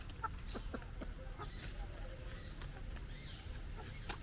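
Chickens cluck softly nearby around a home, a scatter of faint short clucks and scratchy pecking over a low steady background hum.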